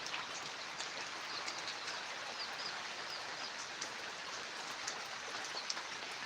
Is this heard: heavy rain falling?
yes